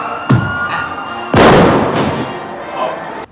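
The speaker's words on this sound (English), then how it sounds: "The fireworks." Loud explosive booms of fireworks, a sharp bang followed by a heavier, longer blast and a few quieter pops, like a film action scene.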